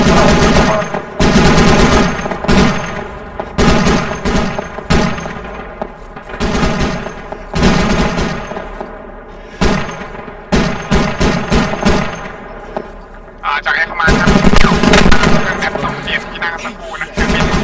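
Machine gun fire in the video game ARMA 3: long, loud automatic bursts broken by brief pauses, with a busy, rumbling battle bed underneath and a heavy final burst.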